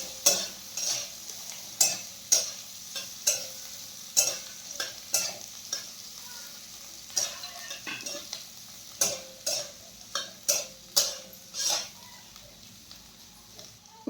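Boiled, crumbled potatoes fry in oil for sabudana khichdi, a soft continuous sizzle broken by repeated sharp scraping stir strokes in an irregular rhythm, close by.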